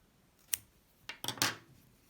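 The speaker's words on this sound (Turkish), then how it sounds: "ipimi kesiyorum arkadaşlar" Scissors snip crochet yarn in a few sharp, close metallic cuts: one single snip, a short pause, then a quick cluster of two or three more, against a quiet background.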